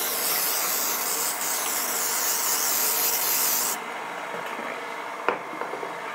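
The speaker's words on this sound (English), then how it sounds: "And I'm gonna spray the pans." A steady hiss of cooking spray from an aerosol can coating baking pans runs for several seconds, then stops, followed by light clatter of metal pans.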